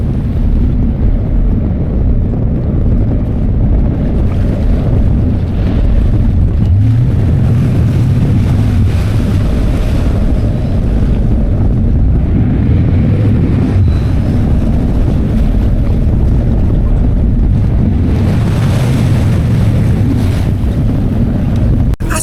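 A ferry crossing from Amsterdam Centraal to NDSM Wharf gives a loud, steady engine rumble mixed with rushing water and heavy wind buffeting the microphone, with no voices.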